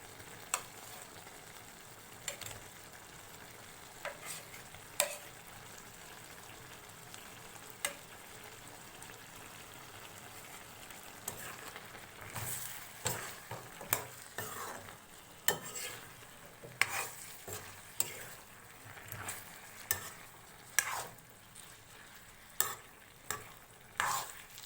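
Fried potato pieces being stirred into ridge gourd cooking in a pan for a fish curry: a steady low sizzle broken by frequent sharp spatula scrapes and clanks that grow busier and more rhythmic in the second half, with no talking.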